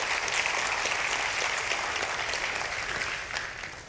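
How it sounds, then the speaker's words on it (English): Conference crowd at a large JavaScript event in Asia clapping in a dense, even burst that fades slightly toward the end of a few seconds, with no voices over it. "So please, a round of applause for every one of you here."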